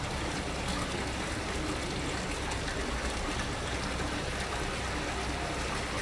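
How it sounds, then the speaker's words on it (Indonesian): An aerator blows air bubbles into a koi pond with an external filter, making a steady, dense hiss and churning burble that stays at an even level throughout. "Itu adalah gelembung udara."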